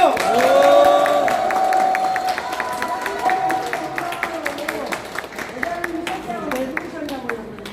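A concert audience at a Hong Ja fan meeting in Andong claps in a loose, scattered patter, while a sustained voice or musical tone rings over it early on and talk continues throughout.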